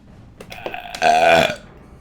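A single loud, drawn-out burp after a few small throaty clicks, rising sharply, holding for about half a second, then fading to quiet.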